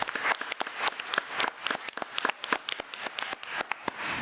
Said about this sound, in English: So let's give Bridget another round of applause.